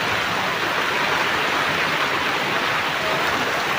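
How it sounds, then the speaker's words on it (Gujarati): Heavy rain pours steadily at night during a thunderstorm with lightning and strong wind, a dense, loud, unbroken hiss of rainfall with no voices. "જોરદાર વરસાદ વીજળી ગાજવીજ સાથે વરસાદ ચાલુ થઈ ગયો છે"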